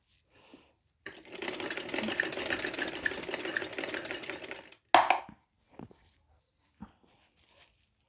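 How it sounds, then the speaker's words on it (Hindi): A sewing machine stitches kurti fabric around a collar neck in one continuous run of steady rapid needle chatter lasting about four seconds, followed by a short mechanical clunk and a few faint clicks in a quiet room. "पूरी गोल स्टिचिंग करें।"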